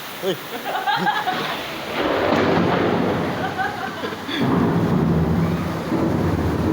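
Heavy rain pouring outside a school in a flood, a dense steady roar of rainfall that thickens partway through, with voices and short exclamations over it.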